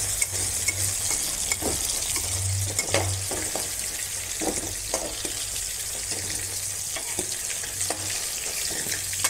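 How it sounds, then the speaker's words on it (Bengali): Fish frying in hot oil in a home kitchen, a steady close crackling sizzle with scattered sharp pops and occasional stirring clinks, continuous throughout with no talking. "এবারে মাছগুলো আমার ভাজা হয়ে গেছে, এগুলো আমি এখন নামিয়ে রাখবো।"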